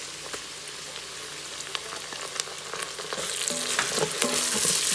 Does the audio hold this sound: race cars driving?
no